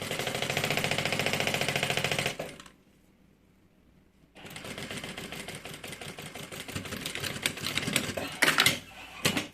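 A sewing machine runs in a steady loud burst stitching fabric for a bag with a changing-mat insert, pauses for about two seconds, then starts again with a more uneven whirring rhythm.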